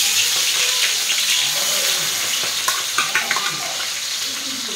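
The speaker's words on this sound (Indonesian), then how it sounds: "Ini kita goreng dulu." Vegetables frying in a pan with dark soy sauce, oyster sauce and fish sauce, a steady loud sizzle with scraping stirs and clinks throughout.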